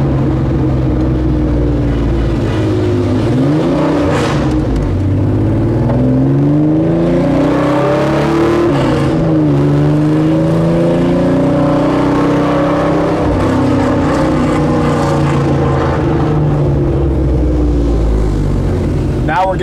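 A 1976 Porsche 911S outlaw roars loudly through city streets in Chicago, its engine revving and climbing in pitch repeatedly, loud and close throughout with the rising and falling surges of acceleration.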